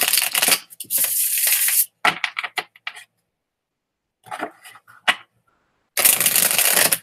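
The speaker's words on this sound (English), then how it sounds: "I want to get a good shuffle if I'm going to actually pull" Tarot cards are shuffled up close in several rapid riffling bursts, separated by brief pauses and softer handling sounds.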